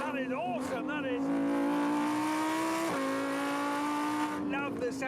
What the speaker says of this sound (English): Love the sound of a V10.